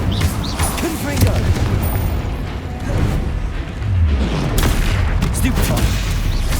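Spell blasts in the Hogwarts Legacy video game: fiery Confringo and Incendio bursts and rumbling booms in a loud, continuous barrage, with a voice calling out spell names over the combat.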